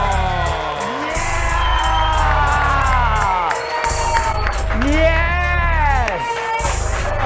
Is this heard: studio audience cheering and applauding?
yes